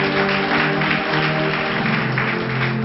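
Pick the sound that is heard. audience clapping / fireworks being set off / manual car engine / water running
audience clapping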